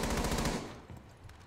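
Automatic weapons fire in Rainbow Six Siege: rapid, loud bursts of machine-gun shots in the first half, then fading into quieter scattered sounds.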